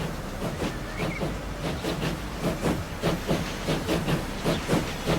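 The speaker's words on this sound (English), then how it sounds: "there she is, the first oil train" A steam oil train in a video game, pulling through a Leeds cargo station, gives a steady loud hiss broken by rhythmic, evenly spaced chuffs throughout, with no one talking.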